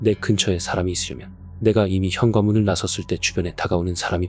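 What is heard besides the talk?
None of the usual background noises is heard.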